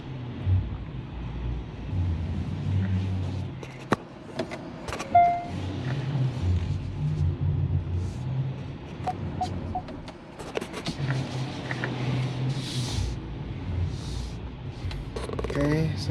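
Hyundai Ioniq 5 electric car being driven slowly forward and in reverse, a quiet low motor hum with faint clicks and cabin noises, while a person talks inside.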